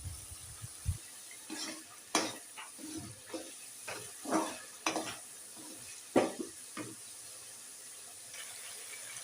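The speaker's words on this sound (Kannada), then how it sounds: "ಮಸಾಲ ಆ್ಯಡ್ ಮಾಡಿದ್ಮೇಲೆ ಅದು ಎಣ್ಣೆ ಬಿಡೋವರೆಗೂ ಮಸಾಲಾನ ಹುರ್ಕೋಬೇಕು ನಾವು." Ground masala frying in oil for a Shivamogga-style fish curry, stirred with repeated scraping strokes over a steady soft sizzle, close and fairly quiet.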